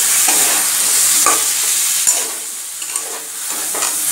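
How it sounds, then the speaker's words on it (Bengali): Jackfruit being mixed with marinated spices in a pan for a doi echor dish gives close, loud scraping and stirring strokes, with a light sizzle underneath. "এবার ভালোভাবে ইঁচড়ের সাথে আর এই মশলার সাথে মিশিয়ে নেব।"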